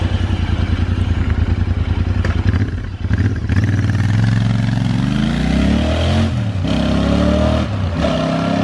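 Royal Enfield Interceptor 650 motorcycle engine running loud and close, idling with a steady throb before revving up and sliding through rising and falling pitch sweeps as the throttle opens and eases off, with no talking.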